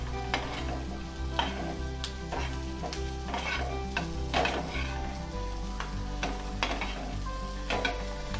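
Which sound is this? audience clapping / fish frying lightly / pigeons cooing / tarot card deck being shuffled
fish frying lightly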